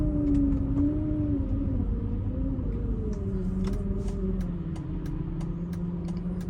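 A 2006 Mercedes-Benz SL500 idles in drive at a standstill with a suspected vibration between engine and transmission. It makes a close, steady low rumble with a slowly wavering hum and faint intermittent ticks, and no one speaks.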